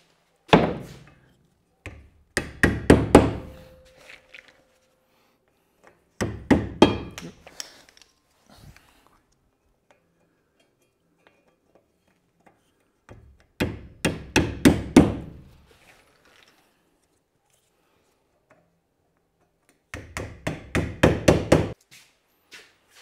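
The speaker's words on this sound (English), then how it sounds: "So I'm gonna tap in these." White plastic end caps get tapped into the ends of Unistrut channel on a lumber storage rack, four short bursts of rapid knocks with quiet gaps between them.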